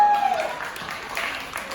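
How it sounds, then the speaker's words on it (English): Audience applause at a stand-up comedy show, a broad wash of clapping from a crowd that swells and fades over a couple of seconds with a faint tone at the start. "Give yourselves a round of applause."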